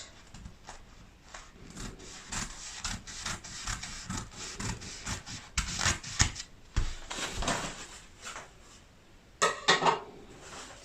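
Fabric being cut out by hand for a sewing design, with repeated close rubbing, rustling and snipping sounds that come in uneven bursts and grow louder toward the end, with no talking.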